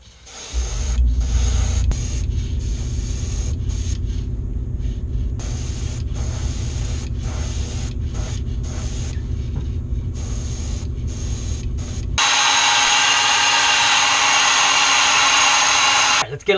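An airbrush sprays opaque yellow paint over chrome fishing lures, a continuous airy hiss with short pulses from compressor and trigger, then a brighter, louder spray in the last few seconds.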